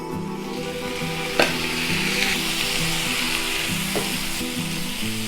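Four thinly sliced tomatoes go into frying masala for a chapathi kurma, a loud, steady sizzle with a couple of sharp clacks from the pan and utensil.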